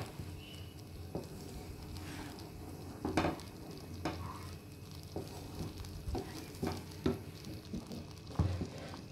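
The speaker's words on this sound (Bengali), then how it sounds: "এটা আমি গ্যাসের চুলায় বসিয়ে দিয়েছি এবং একে নাড়তে থাকবো।" Beetroot burfi mixture is stirred in a pot on a gas stove, with soft scraping strokes and scattered clinks of the utensil against the pot over a low bubbling hiss. No one speaks.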